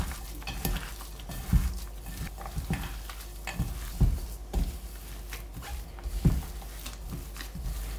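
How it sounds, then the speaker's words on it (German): Bread dough being worked by hand after cold water is added, giving soft irregular squishing, slapping and pressing thumps at an uneven rhythm, close and fairly quiet, with no talking. "Und das alles gut verkneten."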